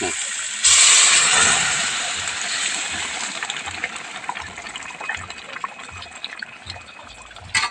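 Water pours in a sudden rushing gush that settles into a steady hissing stream, with faint low thumps underneath throughout.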